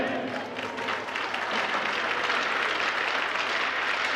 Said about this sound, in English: Please give a big round of applause for number 4, Alex Shen.